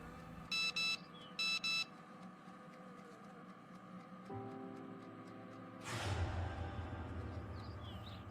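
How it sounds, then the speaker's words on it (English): A phone alert sounds for an incoming bank message: two short bursts of bright, rapid beeping near the start, followed by quieter room noise and a louder rush of sound toward the end. "Lara's mum receives on her phone a message from the bank"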